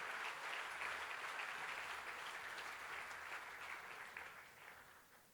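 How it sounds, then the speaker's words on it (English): A crowd at a Northern Territory AFL Team of the Century event gives a sustained round of applause for Jimmy Anderson, dense even clapping that tapers slightly toward the end. "this round of applause will make him feel a little bit better"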